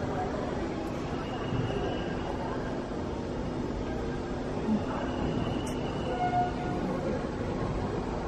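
A train departs from the new Sir M. Visveswaraya Railway Station at Byappanahalli, a steady low rumble of rolling cars with a faint wheel squeal, heard from the platform amid quiet crowd ambience.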